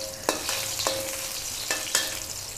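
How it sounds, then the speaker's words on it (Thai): Shiitake mushrooms stir-fried in a pan while cooking vegetarian grain fried rice give a steady sizzle, with about four sharp scraping strokes of the spatula spread over the clip. No one talks. "ผัดเห็ดหอมให้หอมก่อนนะคะ"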